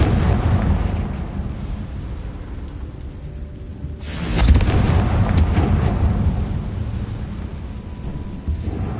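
A fiery Confringo spell blast in the Hogwarts Legacy video game erupts as a sudden loud explosive boom halfway through, followed by a rumbling, crackling tail over a low ambient background.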